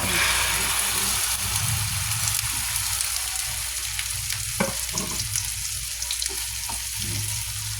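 Tortang talong, an eggplant omelette, frying in oil in a pan, with a loud steady sizzle and occasional spatters and pan scrapes throughout, no voices.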